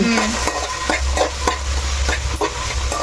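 Peas stirred into a sizzling vegetable keema curry in a hot pan, with steady frying hiss and repeated scraping strokes of a spoon, close and loud with no talk.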